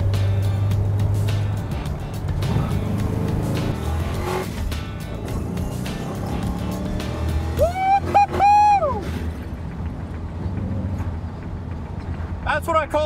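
A light 1961 AC Greyhound compact with a 302 V8 engine revs and accelerates hard, loud and close, with rising engine harmonics and a brief high tire squeal near the end.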